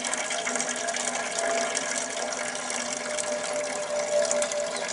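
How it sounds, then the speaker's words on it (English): Water pours steadily over spring cabbages and lettuces on an allotment plot in late November, a continuous rushing gush that holds even and fairly loud throughout, with no talking. "Time to give them another watering."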